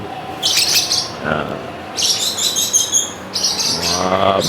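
Lovebirds chirp and twitter in rapid, high-pitched bursts, with short pauses between bursts, loud and close by.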